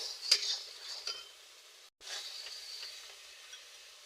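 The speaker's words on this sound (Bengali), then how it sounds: "মশলাটাকে কষিয়ে নেব" A spice paste of chili, salt and sugar for pabda fish jhal is fried and stirred in a pan. Soft close sizzling mixes with utensil scrapes and clinks, and there is a brief silent break midway.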